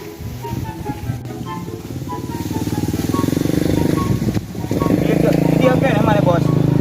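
A motorcycle engine idles and then revs, growing louder and steadier, close by with people talking over it.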